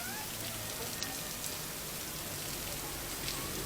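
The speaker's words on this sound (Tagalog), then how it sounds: "Inabutan pa kami ng ulan." Steady rain falls with a continuous hiss, heard during a trip on the road near Tagaytay, with a few faint knocks and no talking.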